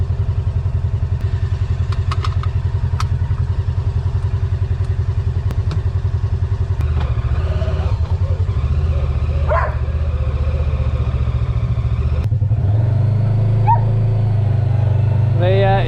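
A Polaris UTV engine idles with a fast, throbbing pulse while warming up, then revs higher near the end. A few clanks and thumps sound nearby, with a dog barking faintly.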